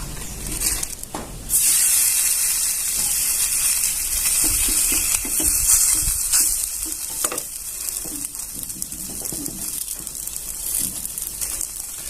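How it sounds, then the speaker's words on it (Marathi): Bhakri flatbread roasting with ghee on a hot tawa, a steady loud sizzle and hiss running throughout with occasional soft scrapes and taps, no talking. "थोडंसं तूप घालून घेऊया आणि त्याच्यावरती आपल्याला ही भाकर घालून देऊया"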